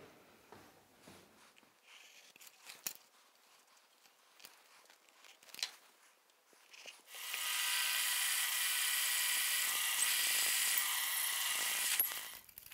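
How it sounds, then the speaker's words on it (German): A drill bores through a plastic router template, a loud, steady whirring drone that starts after a stretch of quiet handling clicks and knocks and holds for several seconds before cutting off. "Wir haben jetzt hier durchgebohrt, was ihr vielleicht schon gesehen habt."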